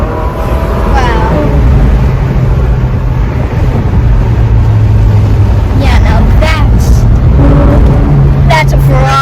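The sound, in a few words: Ferrari 458 Spider car driving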